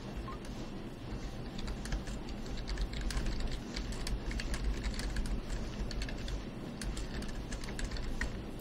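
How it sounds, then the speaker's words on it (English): Steady keyboard typing, dense and continuous clicks over a low background hum, close and moderately loud. "You can listen to me type for a minute."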